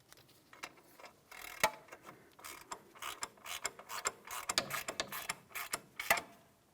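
Rapid ratchet clicks come in short bursts as a ball joint mounting nut is run down and bottomed out on the steering knuckle of a 2007-2014 GMC Sierra 2500 HD, close and clear with no talk.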